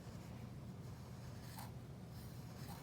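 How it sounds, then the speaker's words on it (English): A marker traces lines on paper in a steady, faint scratching stroke over a low background hum, with no voices. "you can see that I'm carefully tracing everything"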